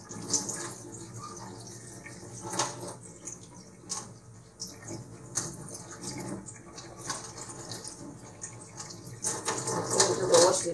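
Tap water runs steadily into a sink while money plant leaves are washed, a soft continuous splashing with occasional louder gushes and clatters, fairly close and alone without talk.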